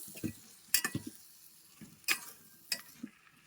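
Mushroom masala with ginger, garlic, yogurt and tomato is lightly fried and stirred, a faint background sizzle broken by several sharp spatula scrapes and clacks against the pan.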